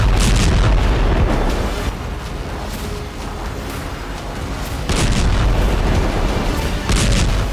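Heavy booming blasts in the sky as rockets are shot down mid-air by Israel's Iron Dome, several loud explosions rolling over one another with a sustained rumble, no voices.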